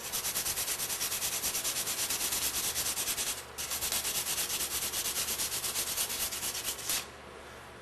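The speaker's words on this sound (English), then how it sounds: "Turn the piece of sandpaper so you get a fresh area." A metal shaft being sanded by hand with sandpaper, a close, steady back-and-forth rasping scrape in quick regular strokes, briefly pausing twice, with no voices.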